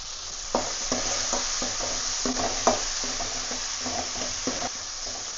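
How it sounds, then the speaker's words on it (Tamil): Onions and tomatoes sautéing with garlic in a pan for a bottle gourd spicy gravy, a steady close sizzle with repeated stirring scrapes at an irregular rhythm and no talk. "தக்காளியும் வெங்காயம் ஓரளவுக்கு நல்லா வதங்கிடுச்சு."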